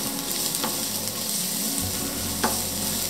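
Chopped garlic sizzles in a hot saucepan of oil, a steady dense crackle throughout with a couple of brief stirring scrapes, close and fairly loud with no talking.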